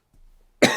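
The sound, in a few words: coughing fit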